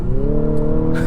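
A 2023 Infiniti QX50 with a CVT transmission accelerating hard, its engine drone rising steadily in pitch, loud and close, as the gearbox steps from one fixed ratio to another.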